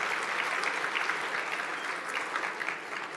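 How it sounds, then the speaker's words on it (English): An audience at a leadership luncheon plenary gives a speaker leaving the stage a full, sustained round of applause, dense clapping from a large room throughout. "Give him another round of applause for he and his colleagues."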